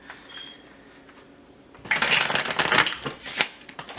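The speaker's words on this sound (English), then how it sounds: "These cards are so thick." Thick tarot cards are shuffled by hand, starting as soft faint handling and breaking into a loud, dense run of flapping, clicking card sounds up close for the last couple of seconds.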